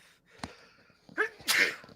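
A person sneezes once, sharp and close, after a brief sharp intake of breath, with faint room quiet around it.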